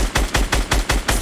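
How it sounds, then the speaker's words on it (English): Rapid automatic gunfire from the Fortnite battle royale video game, six evenly spaced loud bursts in steady rhythm, close and punchy with no talk over it. "There, I'm shooting right now."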